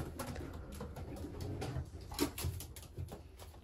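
A pigeon coos softly a few times at close range in a breeder's loft, under a steady low rumble of background noise.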